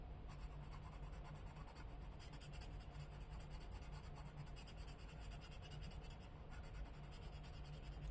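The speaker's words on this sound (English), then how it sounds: "And I'm going to go around it with a coloring pencil." A red coloring pencil scratches steadily on paper while tracing around a drawn flower, a close, continuous dry rasping with small changes in stroke.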